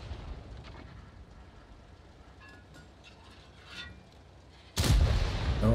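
A quiet rumble of tank movement in World of Tanks breaks into a single loud, sharp gun blast near the end, followed by a heavy booming tail.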